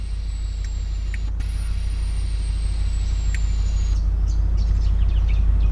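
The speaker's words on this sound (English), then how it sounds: "so you can hear the air coming out of that" A steady hiss of air releasing from the airbag suspension of a Nissan Y62 Patrol over a low mechanical rumble, continuous and fairly loud for the whole stretch.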